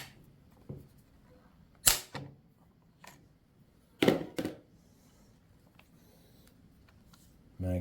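The bolt is worked out of a Lithgow SMLE .303 rifle, giving a few sharp metallic clacks and slides spaced apart in a quiet room, with two louder clicks standing out.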